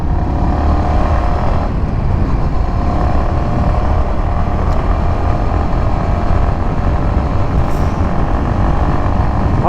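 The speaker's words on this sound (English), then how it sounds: "let you enjoy the sound and the music of the motorcycle" Yamaha XSR 155 motorcycle engine running steadily while riding, a continuous loud drone mixed with strong wind rush, with no voices.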